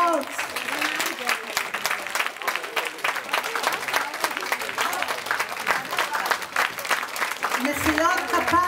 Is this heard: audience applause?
yes